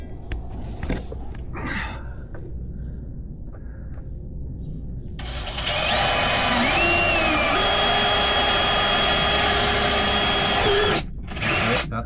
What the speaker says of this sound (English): Just drill a hole there now.